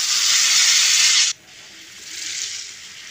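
Hot dal poured into a pan sets off a loud, steady sizzle for over a second, which cuts off abruptly and gives way to a softer, lingering hiss of frying.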